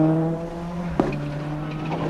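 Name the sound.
Hyundai Accent World Rally car driving on rally stage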